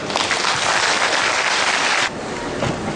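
A large audience applauds steadily to welcome visiting Beijing artists at a 2013 Spring Festival gala in Vancouver. The clapping is dense and loud throughout, then drops slightly in level near the end.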